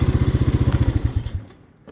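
Honda four-wheeler ATV engine in the woods, a loud pulsing putter close by that fades out over the second half, leaving near silence.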